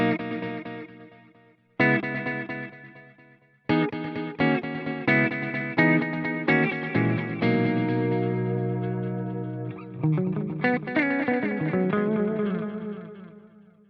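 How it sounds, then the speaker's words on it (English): Electric guitar through a Fractal FM3 multitap delay block at stock settings, quad-tap mode: loud strummed chords and picked phrases, each one trailed by repeating echoes that smear into a dense ringing wash, with no voice. "let's just kick in this multi-delay block at stock settings"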